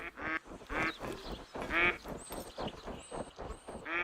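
Repeated duck quacks from the hunting game theHunter: Call of the Wild, a loud nasal call recurring about every half second across the clip, with higher bird chirps joining near the end.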